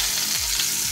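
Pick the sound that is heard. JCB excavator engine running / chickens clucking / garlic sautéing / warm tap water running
garlic sautéing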